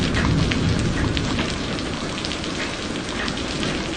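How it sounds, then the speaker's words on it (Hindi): Heavy cartoon rain pours steadily on a house during a flood, a dense, loud, continuous hiss of drops with a low rumble underneath and no voices. "कितनी देर से बारिश आ रही है, रुकने का नाम ही नहीं ले रही।"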